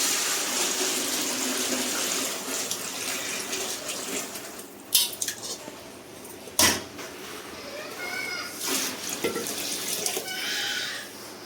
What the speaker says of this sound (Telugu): అక్కడ కొలత తీసుకున్న వాటర్ పర్ఫెక్ట్గా వేసానండి నేను